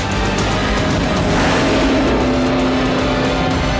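A fast car's engine roars loudly and steadily during a chase, with a rising whine toward the end and faint tire noise, sustained throughout without any speech.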